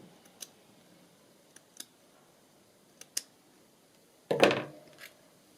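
A journal page edge is trimmed with a few sparse, faint clicks of scissors, followed by one louder, longer snip-and-rustle near the end, close by in a quiet room.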